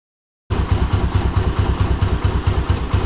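A Honda Navi's small engine idles after a cold start, a close, steady low putter with even, rapid pulses that begins abruptly and holds alone without talk.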